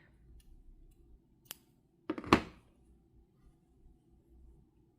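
Scissors cutting crochet yarn: a faint single snip, then a louder close double snip about two seconds in, in an otherwise quiet room.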